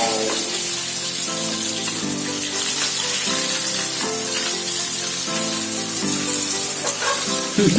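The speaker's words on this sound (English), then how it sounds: "After 2 minutes, let's flip the fish." Rava-coated fish frying Mangalore style in a pan, a loud continuous sizzle and crackle of hot oil that runs unbroken, with steady tonal music playing underneath.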